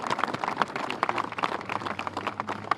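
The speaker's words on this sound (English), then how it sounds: "Please help me once again give them a huge round of applause." An audience at a press conference claps for two United States senators, a moderate, uneven spatter of hand claps heard from the room without voices over it.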